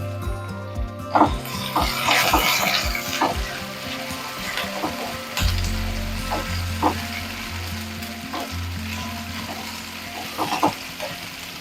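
Chopped onions sizzle in a pan with half a spoon of salt while a chickpea masala is prepared, a steady frying crackle with repeated sharp clinks and scrapes of a spoon stirring, close and moderately loud.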